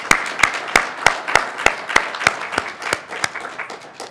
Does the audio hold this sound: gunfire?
no